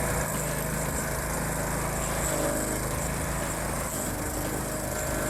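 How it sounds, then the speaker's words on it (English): A homemade stump grinder driven by a pressure washer engine and fitted with an M1 Blue Shark wheel runs loud and steady, its small engine droning continuously at close range with no talk. "With a pressure washer engine paired to a M1 Blue Shark wheel, this DIY powerhouse proves"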